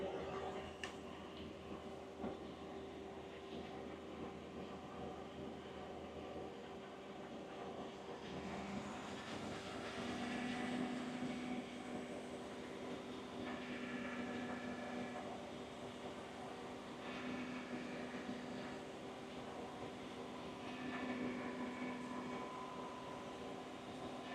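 A car engine holds a steady idle of roughly 1100 to 1500 RPM during an R1234yf air conditioning check, a continuous low drone with a faint whirring hum, fairly quiet and unbroken, with no voices.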